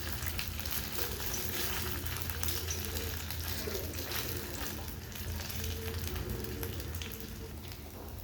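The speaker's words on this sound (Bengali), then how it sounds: "দেখো হালকা তেলে কিন্তু ভাজতে হবে এটা" A homemade snack frying in a little oil over medium heat, a steady close sizzle and crackle continuing without pause.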